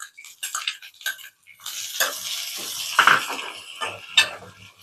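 A single large onion added to ginger and green chilli in a pan, with soft intermittent sizzling and clinks and scrapes of a utensil against the pan, close by and fairly quiet, with no voices.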